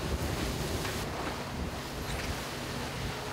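Choppy sea water slaps around a fishing boat out on open water under a strong evening wind, a dense continuous wash of waves and gusting air, close and steady with no voices.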